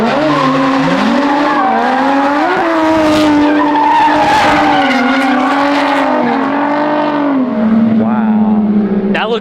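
Lexus IS300 drifting on a street, tires skidding and squealing in a long sustained screech over a loud revving engine, close and continuous throughout.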